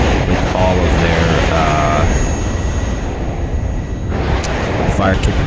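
A MiG-21 jet in the wartime strategy game WARNO roars as a broad, loud jet rush with explosive rumbling, while a voice talks over it.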